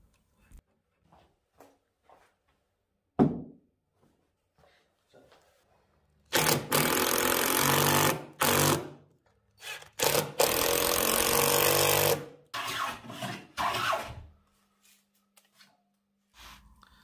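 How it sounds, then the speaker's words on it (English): A chisel pares timber from plywood furniture during a bar cart repair, with a sharp knock followed by long stretches of rough scraping in several bursts, close and loud, separated by quiet pauses. "I just need to remove a small amount of timber with a chisel for a nice tight fit."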